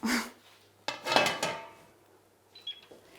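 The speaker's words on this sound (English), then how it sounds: "I'm going to place the tray onto the pan, give it a good flip" A tray set onto a pan and flipped over with an okonomiyaki pancake inside: a short bump, then a clattering metallic rattle of cookware about a second later, and a few faint light clinks afterward.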